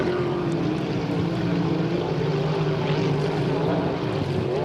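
Hydro350 hydroplane racing boats at the Beauharnois race roar along in a sustained, droning engine whine, steady and fairly loud across the whole stretch, with no voices over it.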